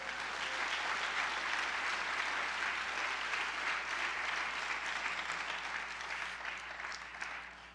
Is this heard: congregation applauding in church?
yes